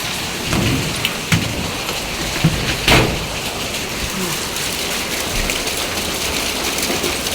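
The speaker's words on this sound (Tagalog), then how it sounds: "Ayan, umuulan na siya guys." Steady rain pours down in a dense, even hiss, with a few sharper splashes and drips standing out near the start.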